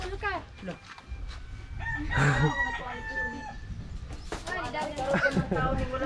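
Chickens cluck and a rooster crows near a backyard chicken coop, the crow rising loud and close in the middle, with scattered clucks around it and people talking over the birds.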